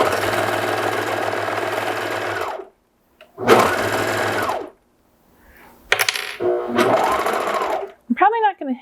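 Serger stitching down a skirt seam in bursts of loud, rapid mechanical whirring, close up, with pauses between runs; a voice talks during the later part.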